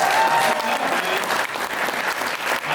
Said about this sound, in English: Don't clap too hard, man.